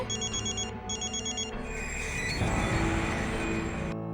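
A mobile phone rings in bursts of a repeating electronic tone, loud and close, then gives way to a louder rumbling scene with music-like sound underneath and no voices.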